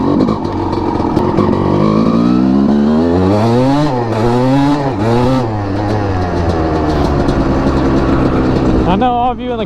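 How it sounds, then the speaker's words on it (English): A Honda CR250R two-stroke motorcycle engine revs up and down in loud, rising and falling blips, its buzzy pitch sweeping upward several times before settling, heard close and alone. "Man, I love that sound. Good old two-stroke."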